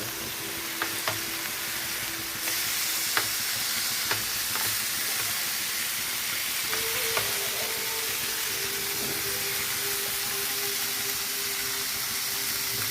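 Fish frying in hot oil in a pan, a steady broadband sizzle with brief clicks and faint stirring or scraping, growing slightly louder partway through, continuous and close with no talk.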